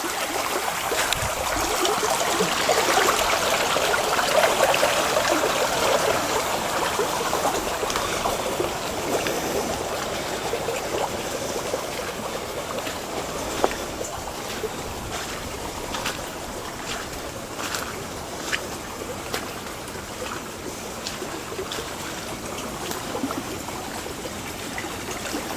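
Water running along a stream course up toward a spring well, a steady broadband rush of flowing water with faint trickles, continuous and fairly close throughout, with no talking.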